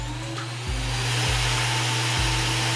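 A Walter Mini IceCut magnetic base drill runs on mild steel at around 500 RPM with a steady, loud motor whine. Its pitch dips and recovers several times as the load changes, and nobody speaks.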